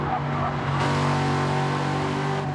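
A Corvette race car engine in Gran Turismo 7 during an endurance race, holding a loud, steady high-revving drone from onboard with a gear change partway through and no talking.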